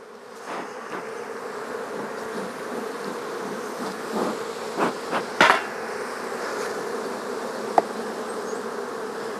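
Dense, steady droning hum of many honey bees buzzing together at a hive, including drones, with a few louder passes and knocks close by; no voices.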